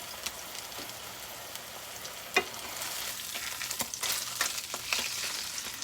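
Pizza toppings cook in a pan with a steady, close frying sizzle and crackle, punctuated by a few light pops and a soft tap, with no voices.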